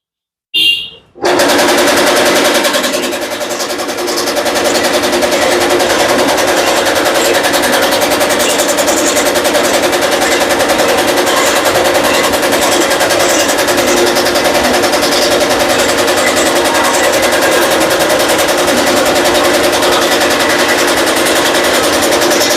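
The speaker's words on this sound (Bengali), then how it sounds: "এক ইঞ্চি করে খড় কাটা হয়ে গেল।" A chaff cutter machine set to one-inch gearing chops straw, a steady loud mechanical clatter and whir running continuously after a brief start-up.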